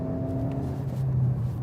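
A 2016 Kia Optima with a turbocharged engine driving along, its steady engine drone and low hum from inside the cabin, with constant road noise and no talking.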